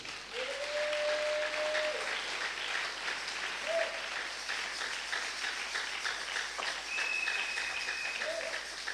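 A church congregation applauds during a sermon on unbelief, sustained clapping from many hands filling the room at moderate volume, with faint voices calling out over it.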